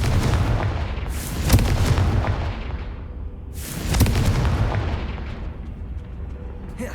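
Two loud spell blasts from a Harry Potter video game, each a sharp boom with a long rumbling decay, spaced about two and a half seconds apart over a dense game soundscape.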